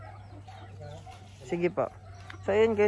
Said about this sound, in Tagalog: ibang mga manok doon